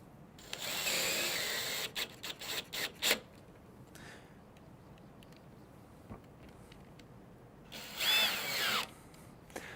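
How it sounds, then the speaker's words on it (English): A power drill drives screws into the back of a Bestop Trektop Glide header and side bow, a short run of loud whirring bursts near the start and another sustained burst later, with quiet gaps between. "we'll take those other 2 screws and drive them into the back side of the header and side bow"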